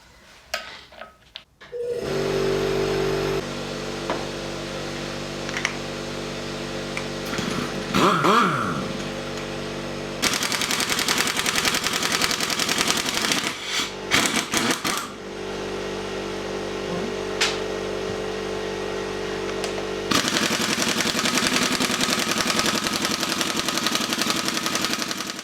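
Air tool driven by a large compressor working on bolts on a Series Land Rover during restoration, harsh broadband bursts over a steady mechanical drone of the running compressor, close and loud.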